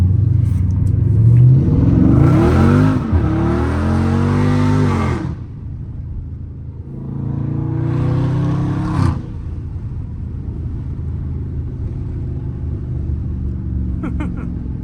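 Heavy Dodge Scat Pack car drifting, its engine revving hard in two loud bursts with rising and falling whine, then settling into a lower rumbling idle, with a voice briefly heard.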